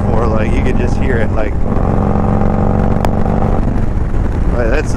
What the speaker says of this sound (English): Gives you that really nice tractor sound that Harley's known for.